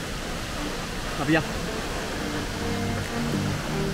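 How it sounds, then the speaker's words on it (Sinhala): Large Galagamalla waterfall, about 100 metres high and swollen with rainy-season water, gives a continuous broadband roar throughout, with a brief spoken phrase over it. "පේනවා ගලක මැල්ල. මහ දැවැන්ත ඇල්ලක්."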